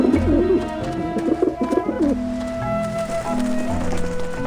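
Pigeons cooing in the Grim Fandango video game, a rolling throaty coo up front over a low rumble, followed by sustained tones and soft flutters as a voice talks over part of it.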